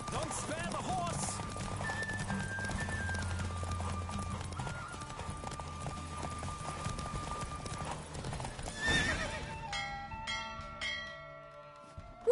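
Hooves clip-clop rapidly as a horse gallops in a race in the video game Witcher 3, with a neigh and a bell ringing over a continuous music-like backdrop.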